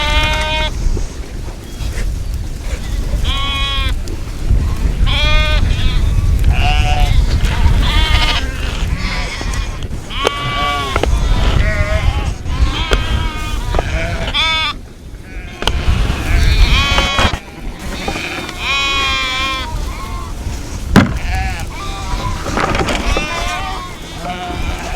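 Sheep and lambs bleat repeatedly at their feeders during intensive grazing season, many overlapping calls near and far over a steady murmur of movement, with some talk in between.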